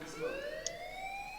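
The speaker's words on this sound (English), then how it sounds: "Hey, do you hear that fire alarm?" Fire alarm in the video game Life Is Strange, a faint, steady electronic tone sounding alone for a moment with no speech.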